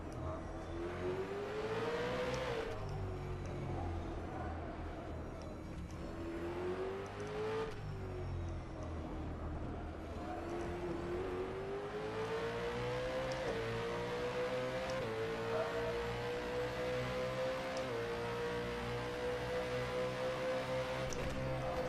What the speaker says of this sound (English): Just letting you hear the noise of the engine